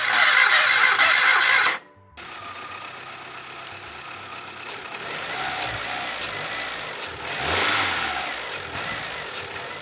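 An engine runs fine after air is bled from its fuel system, a steady mid-pitched idle close by with a short gap near the start and a swell of revving later, no talk.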